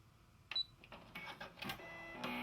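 A sewing and embroidery combo machine trims its thread automatically, giving a quick sequence of faint mechanical clicks, whirs and a short high beep, close and quiet.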